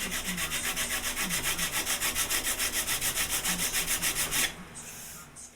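A knotted end of a wooden piece being sanded by hand with a steady, fast back-and-forth rhythm of about twenty rasping strokes, close and alone, before it stops and gives way to quieter background noise.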